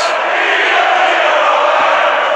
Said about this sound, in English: Not sure if the crowd started singing at the wrong moment there